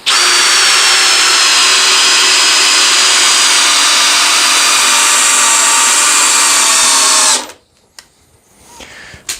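A Parkside PPBSA 20 Li A1 cordless driver whines loudly and steadily as it drives a screw in, then stops abruptly, leaving quiet handling noises.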